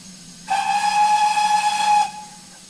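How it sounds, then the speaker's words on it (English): A GWR Hall steam locomotive whistle in Train Simulator 2016 on the Falmouth Branch gives one loud, steady blast of about a second and a half over a low engine rumble, then cuts off. "Nice whistle."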